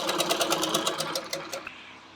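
A sewing machine runs in a fast, steady rhythmic stitching burst while sewing a lined blouse, close and fairly loud, slowing and trailing off near the end.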